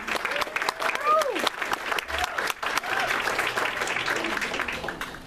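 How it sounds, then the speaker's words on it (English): Audience applause fills a candidate forum hall, a steady clapping crowd that carries on under a voice as he speaks over it. "Thank you very much for the applause."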